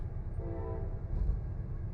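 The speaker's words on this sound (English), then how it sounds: "is that a train? Oh, train over there." A train in the American Truck Simulator game rumbles steadily in the distance under a constant low engine drone, with a brief horn tone sounding partway through, mid-level and not up close.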